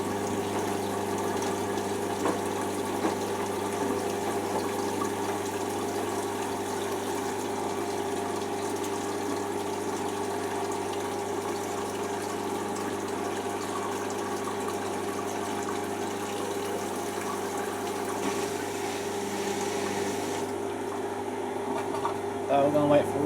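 A washing machine runs a spin cycle, a steady mechanical hum with a pumping, watery drone that holds even for over twenty seconds and shifts slightly near the end.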